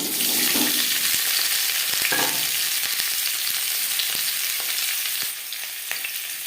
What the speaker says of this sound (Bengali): সবার প্রথমে আমি আলু ভেজে নেব